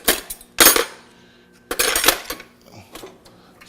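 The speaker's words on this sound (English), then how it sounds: "get another fork, start cutting into the steak" A fork scrapes and clinks against a plate while cutting into a home-cooked steak at lunch, with two bursts of sharp metallic clatter followed by fainter taps, close and with no voices.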